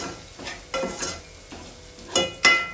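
Masala paste and cooked mutton are stirred in a pan over a low gas flame, with soft scraping strokes and a gentle sizzle in a steady rhythm, plus a few sharper clinks of the spoon.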